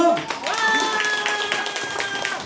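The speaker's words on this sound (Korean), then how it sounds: "다시 한 번 우리 세 분에게 박수 한 번 보내주시고요" An audience claps for three dancers, a mother-and-child dance pair among them, in a short burst of close clapping mixed with a voice and background music.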